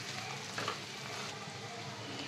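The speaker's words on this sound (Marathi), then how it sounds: "वांगी आपण आहे ना हलक्या हाताने ह्याच्यात ना मिक्स करून घेऊया." Stuffed brinjals are gently stirred into fried onion in a pan, giving a soft continuous sizzle with faint scraping, close and fairly quiet.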